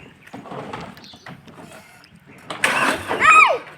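A farm tractor engine cranks and catches after a quieter stretch, rising into a louder mechanical burst near the end, heard up close.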